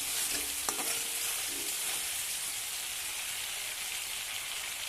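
Shrimp and mustard paste fry in a pan for a Bengali helencha shaak shukto, with a steady broadband sizzle and a few scraping stirs near the start, then an even hiss. No voices.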